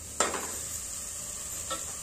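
Cauliflower goes into frying masala in a pan, giving a sharp splash and clack followed by a steady hiss of sizzling, with a softer stir near the end, close and fairly quiet.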